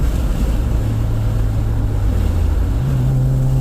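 First-generation Honda CR-V (RD1) with a Yonaka catback exhaust drones loudly and steadily from inside the cabin with windows down, the engine note climbing in pitch toward the end under heavy wind rush.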